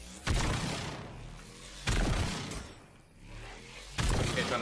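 Another player's gunfire in an online arena video game: three loud, sharp shots spaced about two seconds apart, each ringing out and then fading.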